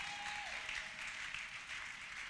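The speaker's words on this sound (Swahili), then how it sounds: "Shangilia Yesu kwa makofi" A church congregation claps together in sustained, dense applause, the sound moderately distant and even throughout, with a brief electronic tone at the very start and no speech over it.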